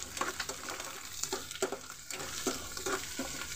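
Salted food frying in a pan, a steady close sizzle with repeated scraping stirs every half second or so, no voices.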